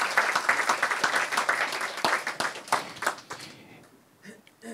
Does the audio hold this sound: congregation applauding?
yes